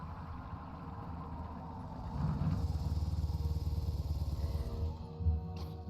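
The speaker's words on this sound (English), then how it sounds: "And where did you get that motorbike?" Hagrid's flying motorbike in a Harry Potter video game: a low, rumbling motorcycle engine that grows louder and steadier midway, a continuous throaty drone close by with a brief swell near the end.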